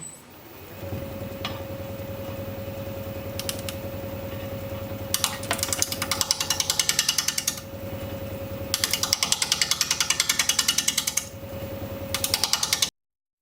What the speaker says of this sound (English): Going to be turning at a little over 600 RPM with a standard grind 5/8 inch bowl gouge.